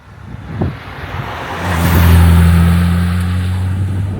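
Restored Series 1 Jaguar E-Type XKE engine accelerating, the drone rising in pitch and growing louder into a strong sustained roar, then easing slightly while staying close.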